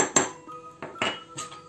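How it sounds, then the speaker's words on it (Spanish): A spoon clinks and scrapes against a bowl while cornstarch is stirred into water for a sweet and sour sauce, a few sharp close knocks with short gaps. "Y la removéis para que no queden grumos."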